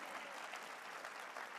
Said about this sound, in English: And that's okay to applaud as well.